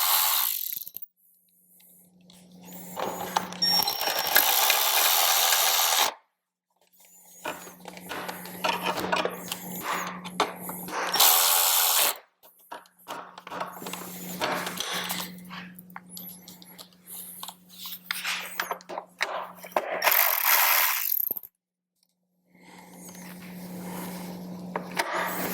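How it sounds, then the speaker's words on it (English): A 5/32 Allen tool drives the outer bolts of a Soundstream radio into a Harley-Davidson fairing, with repeated loud bursts of rapid ratcheting clicks, each a few seconds long, separated by quiet pauses. "we're going to go back to our 5/32 Allen tool and install all of these outer bolts"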